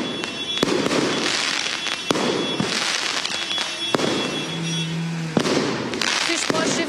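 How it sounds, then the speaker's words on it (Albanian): Fireworks at a street celebration near the LDK party headquarters in Peja, a rapid series of sharp bangs and crackles over a crowd roar, with people talking throughout. "kishte edhe shumë fishek zjarë"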